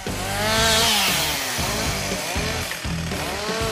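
A chainsaw cuts trees at a Korean logging site, its engine revving and bogging in repeated pulses as the chain bites the wood, loud and close with no speech.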